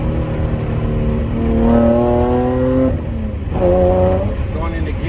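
A 1995 Lexus SC300 drives along after a new clutch master and slave cylinder, its engine droning and rising in pitch as it accelerates twice, close by and fairly loud, with a voice talking over it.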